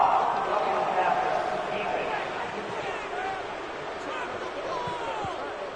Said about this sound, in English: this crowd does not like that call. Understandable reaction from them.